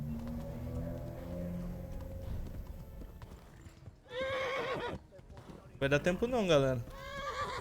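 Horse galloping hooves and sharp neighing during an escape in the medieval video game Kingdom Come Deliverance, rapid rhythmic clip-clop followed by two loud whinnies, with someone speaking over the start.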